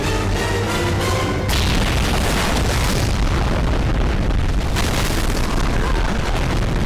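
A large explosion in the action film Rambo sounds as a heavy, loud blast with booming rumble and crackling debris. The noise continues throughout, with a second surge partway through.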